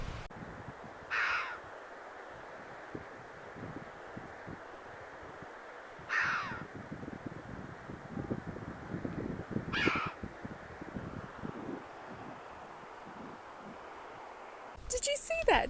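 Red-billed chough on the Cornish coast at Cape Cornwall, giving a few sharp, ringing calls spaced several seconds apart, fairly close and clear above wind and outdoor background.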